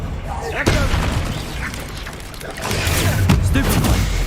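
A Stupefy spell cast in Hogwarts Legacy, with a spoken incantation followed by booming magical blasts and bursts in quick succession.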